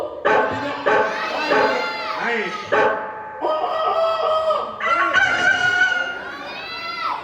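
A person's voice imitates a rooster's crowing in several drawn-out, rising calls, mixed with other voiced animal-like cries.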